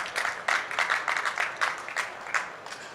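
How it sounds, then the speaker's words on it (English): A small audience gathered at a trade-show booth demo applauds, a dense run of overlapping claps that rises and falls for a few seconds, fairly close and without speech. "let's give Wendy a round of applause there"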